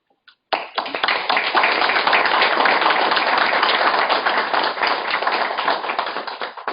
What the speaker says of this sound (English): Oh, we got people clapping.